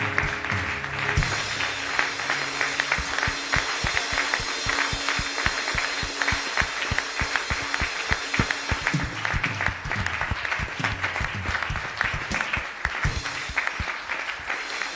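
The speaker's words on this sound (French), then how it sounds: "Est-ce qu'on peut acclamer pour le Seigneur des armées?" Church congregation applauding in praise, a sustained dense burst of clapping with sharp individual claps cutting through, loud and continuous over a faint backing of organ-like tones.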